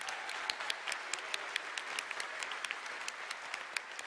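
Audience at a cosplay contest applauding its entrants: steady, fairly quiet clapping from a crowd, sustained throughout with individual claps popping out, no voices.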